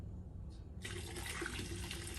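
Liquid soap poured into a bucket half full of hot water while making homemade laundry detergent: after a quiet moment, a sudden steady pouring splash begins and continues evenly, close and moderately loud.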